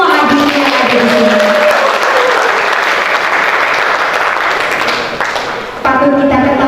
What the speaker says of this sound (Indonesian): Kita berikan tepuk tangan untuk semua hadirin yang ada di sini.